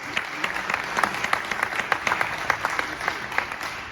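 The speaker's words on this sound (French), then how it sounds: "Depuis aujourd'hui, on peut l'applaudir." Applause for a long-serving town mayor at an outdoor women's tennis tournament ceremony, a crowd clapping steadily with dense, sharp hand claps throughout, moderately close and without talk.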